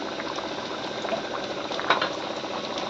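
Onions cooking in hot oil for an Assamese-style fish dish, a continuous close bubbling sizzle with soft popping, steady and moderately loud, with no talking.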